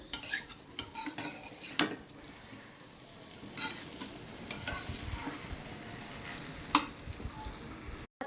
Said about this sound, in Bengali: এগুলো আমি ভালো করে কষিয়ে নেই